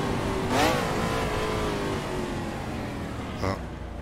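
Prototype race car engine in the Assetto Corsa driving game, a sustained close mechanical drone with a brief rising rev early and a shift blip near the end, steady and loud without voices.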